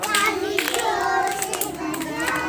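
A group of children at an anganwadi childcare centre clap loudly in an exercise routine. Several distinct, evenly spaced claps come through under their chattering and singing voices.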